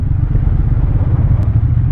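Triumph Bonneville motorcycles riding past near Ladybower Reservoir in the Peak District, a steady loud low engine rumble throughout with no break.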